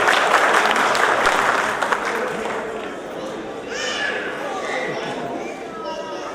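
Crowd applause at an Ambedkar Jayanti gathering for someone, loud at first and then thinning after about two seconds into scattered claps and murmuring chatter as a voice begins under it.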